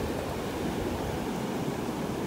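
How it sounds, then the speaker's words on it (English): Ocean surf washes steadily over bare feet in the shallows of a North Naples, Florida beach, a continuous, fairly loud rushing and churning of water with no break and no voices. "These waves are doing a good job at pushing everything around under my feet."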